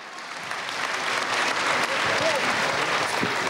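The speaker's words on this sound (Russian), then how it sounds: "Просто аплодисменты!" Steady applause from an audience, dense clapping that swells slightly and holds at a constant level throughout.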